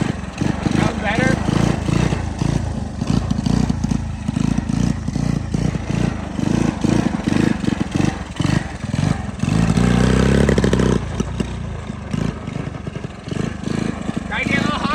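Engine of a 1985 Honda ATC 110 all-terrain trike, a small single-cylinder motor running loud and near with repeated throttle blips and rising revs, people talking over it.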